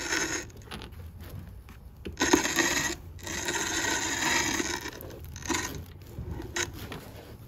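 Hand-crank pinking machine cutting fabric with a dense, rasping crunch in long continuous passes, broken by short pauses between cranking strokes, loud and close.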